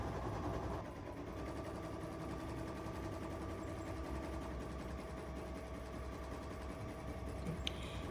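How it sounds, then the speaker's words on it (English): A 475 embroidery machine runs its thread cutter, giving a steady close mechanical whir and hum with a faint click near the end. "this 475 has a thread cutter, and I'm cutting"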